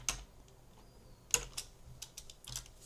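Typing on a computer keyboard: a few sparse, quiet key clicks, with a couple of sharper taps among light tapping, close and without talk.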